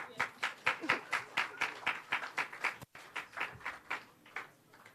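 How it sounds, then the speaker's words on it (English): An audience at a Jamaica Dairy Development Board World Milk Day event claps in a steady, moderately loud burst of applause that thins out toward the end. "Give us a clap for that"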